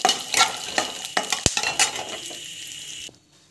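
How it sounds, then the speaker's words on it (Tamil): Dal and chana dal fry in a pan while a metal spatula stirs and scrapes them, making a busy crackling sizzle with sharp clinks against the pan. It stays close and fairly loud, then drops to near silence at the end. "ஸோ இது வந்து பார்த்தீங்கன்னா பருப்பு, கடலைப்பருப்பு நல்லா வதங்கணும்."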